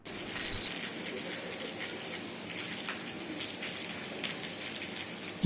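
Heavy rain pours outdoors onto a flowering nandivardhanam (crape jasmine) tree, a steady broadband hiss with scattered drop patter throughout, fairly faint and with no talk.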